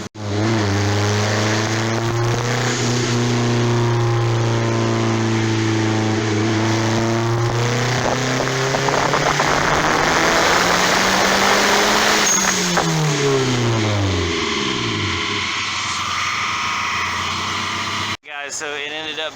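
A turbocharged Honda Integra engine on a dyno revs hard up toward redline, a loud rising drone that climbs, falls back and sweeps up again, close and sustained throughout.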